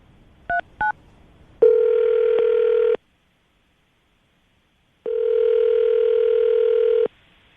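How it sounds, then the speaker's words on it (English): A telephone is dialed: two short touch-tone beeps, then a steady dial tone, silence, and a second long tone, all clean and close with no talking. "I'm going to dial the phone number right now"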